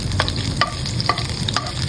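Tomato sauce for a homemade pizza simmering and sizzling in a pan, loud and close, with a few soft stirring scrapes at a steady rhythm and no talking.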